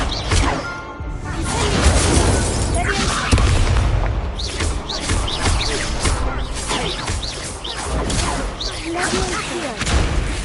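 Confringo explosive spell and Incendio fire spell cast during Hogwarts Legacy combat on PS5: repeated loud booms and crashing blasts with whooshes, layered over game effects and a voice calling out spells throughout.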